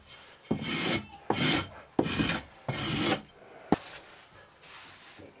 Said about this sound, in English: Once you get the box full, you strike it off, or strickle it.